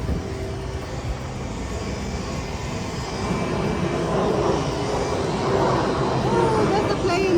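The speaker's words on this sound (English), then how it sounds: "Oh, there's the plane." A fixed-wing airplane passes overhead in an outdoor setting in Sydney, a steady broadband engine roar that swells slightly louder in the second half, with brief voices over it.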